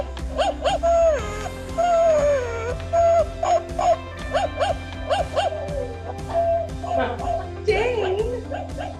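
A small electronic toy dog yaps and whimpers in quick repeated bursts, high and tinny, with background chatter and noise throughout.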